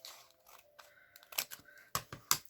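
Scissors snipping through old plastic, a few close, sharp cuts arriving in quick succession toward the end, with quieter rustling handling in between.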